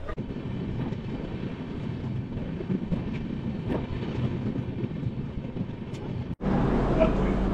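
Kamrup Express pulling into New Alipurduar station, a steady loud rumble of the moving train with rattling carriages throughout, then a sharp shift to a different, louder roar near the end.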